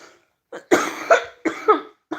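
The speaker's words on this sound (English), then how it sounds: "Excuse me, guys, for my coughing." A person coughing in several sharp, close bursts, two or three clustered pairs of harsh coughs separated by brief pauses, with no talking.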